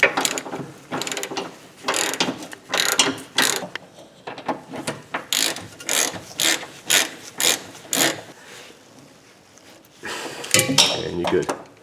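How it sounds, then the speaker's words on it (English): BC Racing rear adjustable coilover bolts being tightened down on a fifth-generation 2010-2015 Camaro, a repeated ratcheting clatter of metal in bursts, close and loud. "I'm just going to tighten these down."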